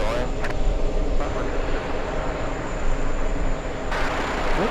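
Emirates airliner beginning its takeoff roll on runway 22 left at JFK airport, a steady, moderately loud engine rumble under continuous wind noise, with faint radio chatter in the background.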